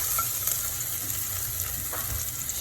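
Garlic browning in a pan for ginisang monggo gives a steady, soft sizzle that runs without a break, with a few faint crackles.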